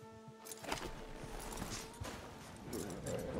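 Horse hooves clip-clop in Red Dead Redemption 2, a fairly quick, uneven run of soft thuds at mid distance with game ambience and faint clanks around them.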